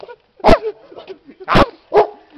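A dog gives three loud, sharp barks or yips close by, spaced roughly a second apart, with softer whimpering sounds between them.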